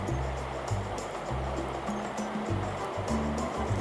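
Water pours into a pot of naatu kodi curry, a country-chicken dish, making a continuous rushing, splashing flow with low gurgling pulses throughout.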